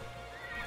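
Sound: horse whinny in ARK Survival Evolved video game

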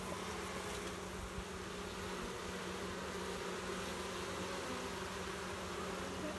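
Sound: honey bees buzzing around an opened hive

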